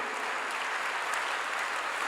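A church congregation applauds during a Korean sermon on prayer, giving glory to God: steady, dense clapping from many hands fills the space, fairly close and even in loudness throughout, with no voice over it.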